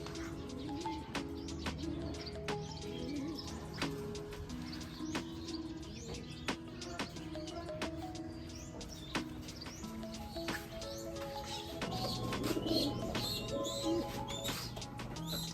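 Pigeons cooing and chirping at a rooftop pigeon loft, a steady busy chorus of birdsong with soft coos and scattered wing or movement sounds, continuous and moderately loud.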